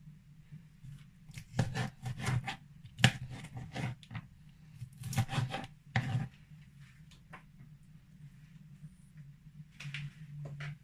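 Spinach cut by hand for egusi soup, a series of soft crisp slicing and snipping sounds in irregular bursts, close but faint over a low steady hum, with no talk.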